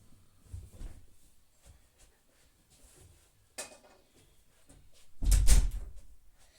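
A wooden door closing in Minecraft, a soft shuffling of in-game sounds followed by one loud, close thud near the end.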